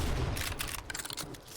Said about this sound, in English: I love the shotgun for these close quarter clears, man.